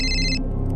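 Telephone ringing with a brief electronic ring burst that cuts off after a fraction of a second, near and clear, followed by low background tone.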